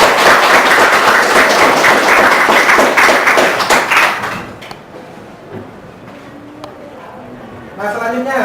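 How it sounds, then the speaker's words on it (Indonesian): A classroom group applauds a student team's finished work with a few seconds of dense, fairly loud clapping that stops abruptly, followed by quiet room noise and a voice coming in near the end. "Tepuk tangan untuk kelompok 1"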